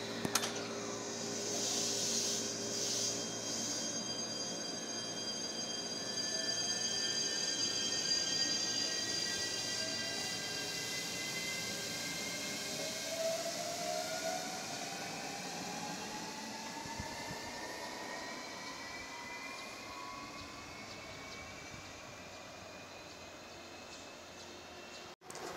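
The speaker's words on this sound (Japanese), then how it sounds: "下り2700系南風号赤いアンパンマン列車が通過です。" A red JR Series 2700 Nanpu limited express Anpanman train passes through a small seaside station, a long steady rumble of wheels and motors with rising and falling whines and squeals, sustained and fairly loud before fading near the end.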